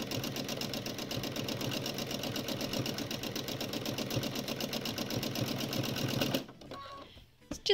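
A sewing machine stitches fabric in short up, down, backward and forward runs to form tiny caterpillar legs, whirring steadily and rapidly up close for about six seconds before stopping.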